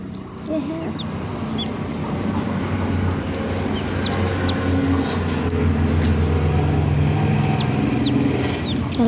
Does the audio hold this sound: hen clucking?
yes